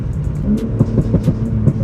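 A BMW M5 engine revs at half throttle and lets off in quick, loud, uneven pulses, heard up close over a couple of seconds with no talking.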